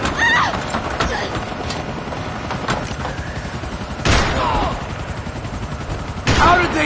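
Gunfire in the video game Max Payne 3, a dense game soundscape with sharp shot bursts around four seconds and near the end, mixed with horse-like whinnying cries and other effects.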